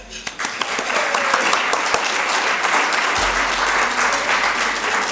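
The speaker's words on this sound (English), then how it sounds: "just one more round of applause for being together" Audience applause at a chamber of commerce annual meeting and awards banquet: a dense, sustained round of clapping from a large crowd, filling the hall steadily throughout.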